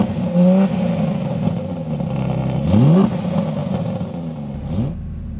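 Porsche 992 GT3 Touring on a winding road near Laguna Seca, heard from the passenger seat: engine revs climb sharply in repeated bursts between gear changes, loud and close, no talk.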